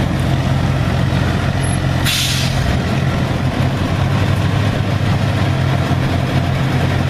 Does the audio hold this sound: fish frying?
no